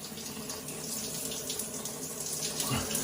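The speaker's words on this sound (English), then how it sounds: "running the cold water on your face" Cold water runs steadily from a tap into a sink, a continuous splashing rush at close range with a slight change as it strikes the face near the end.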